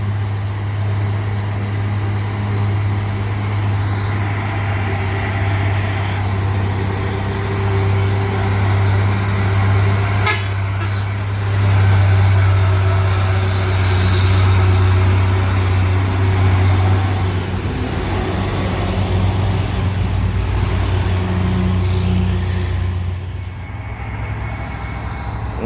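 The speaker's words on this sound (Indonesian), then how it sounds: "Ada Fuso muatan tinggi gunung overload." An overloaded Fuso truck labors up a steep mountain incline, its engine a loud, steady low drone that holds for the whole stretch with slight surges, close by and with no voices over it.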